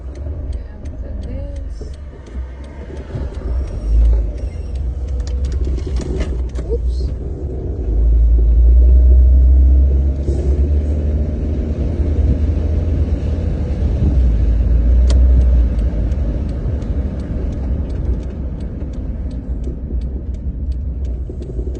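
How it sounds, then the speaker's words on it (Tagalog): Busy road traffic in America, with many cars passing in a steady low rumble that swells and eases over about twenty seconds, with faint ticking above it. "Dami sasakyan."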